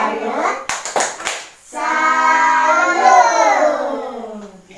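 A group claps the 'tepuk salut' clap chant during an Indonesian family-session simulation on child protection: a short burst of sharp, close hand claps, then voices chanting together loudly.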